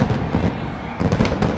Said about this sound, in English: as the fireworks go off, the fans celebrate